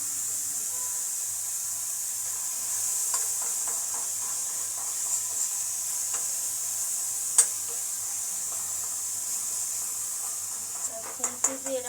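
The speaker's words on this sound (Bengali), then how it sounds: "আর ওটা ভাজা ভাজা হচ্ছে" Spices with turmeric, fennel and chili powder fry quietly in a pan over low heat, a soft steady sizzle with scattered light clicks and scrapes of a spatula, and a few sharper taps near the end.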